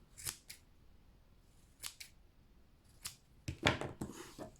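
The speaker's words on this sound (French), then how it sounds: "je viens couper les franges" Scissors snip through the yarn fringe of a crochet keychain pompom: a few sharp, crisp cuts spaced apart, then a quicker cluster of snips near the end, close and alone with no talk.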